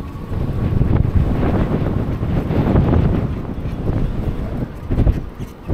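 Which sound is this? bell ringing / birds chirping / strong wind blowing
strong wind blowing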